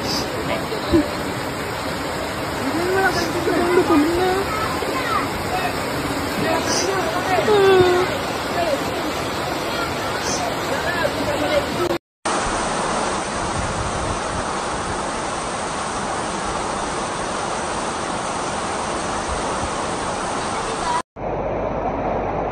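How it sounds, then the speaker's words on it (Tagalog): Typhoon floodwater rushes through the streets of Metro Manila with a steady, loud roar. The sound is continuous and broken by two abrupt cuts, and a faint babble of voices sits beneath it. "Typhoon triggers flooding in Metro Manila."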